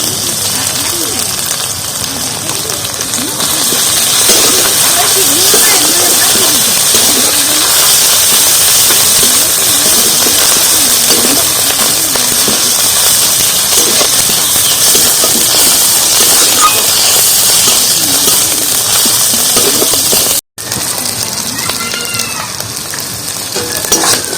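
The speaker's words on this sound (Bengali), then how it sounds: "আদাটা একটু ভালোভাবে কষিয়ে নেবো আদার গন্ধটা চলে যাবে তারপরে রসুন সরি রসুন দিয়েছি আর রসুনটা খানিকক্ষণ একটু ভেজে নেবো" Ginger and garlic frying in a pan for a Bengali kochu loti and prawn dish, a steady loud sizzle and hiss running throughout, with occasional stirring and a brief cut near the end.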